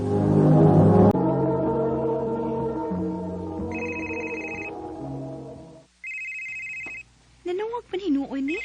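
A telephone rings in two short electronic bursts during a Cebuano radio drama, heard over a steady music bed, with voices speaking afterward.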